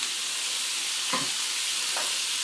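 Venison browning in a stock pot gives a steady broadband sizzle throughout, with a couple of brief stirring scrapes standing out midway and near the end, close and constant, no voices.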